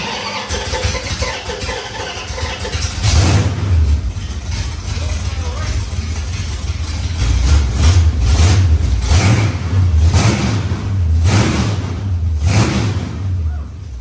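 A 1973 Dodge Charger V8 rumbles in a garage with no air cleaner fitted, idling loud and close with repeated throttle blips rising and falling, and voices talking over the engine.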